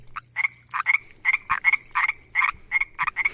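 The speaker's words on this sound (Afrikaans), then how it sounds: "paddas maak sulke interessante geluide, en hulle noem dit mos nou mating calls" A frog's mating call rings out as a steady series of about eleven short, rhythmic croaks, close and clear with no talk.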